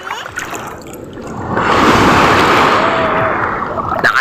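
Strong sea waves surging and splashing close by, a steady broadband wash that swells louder midway and holds, with faint voices in the background.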